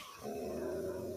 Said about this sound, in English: Yes, there's a dog on this level.